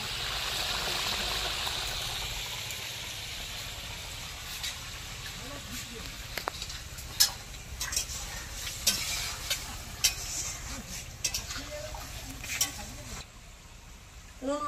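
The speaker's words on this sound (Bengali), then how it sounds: "এই যে দেখো ও রান্না করছে মুরগ মাংস" Chicken meat cooks in a pan in a village kitchen, with a soft sizzle that fades as irregular clinks and scraping of utensils take over.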